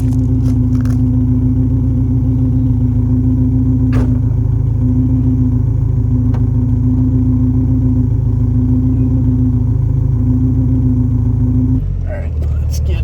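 Alfa Romeo Spider with a 2-liter four-cylinder engine idling at a loud, steady rumble, with a strong low hum throughout, then changing pitch near the end as it revs.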